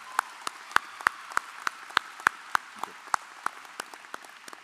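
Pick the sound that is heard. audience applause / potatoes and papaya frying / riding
audience applause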